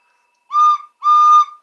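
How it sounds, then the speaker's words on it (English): Two sharp, loud whistle blasts, a short one followed by a longer one, clear and close with a brief gap between. "and whistles."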